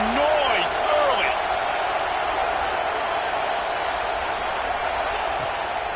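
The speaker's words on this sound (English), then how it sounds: "This crowd bringing the energy and noise early." Stadium crowd noise from a college football video game, featuring Florida State, fills the scene as a loud, steady roar with brief whistling cheers near the start, sustained and dense throughout.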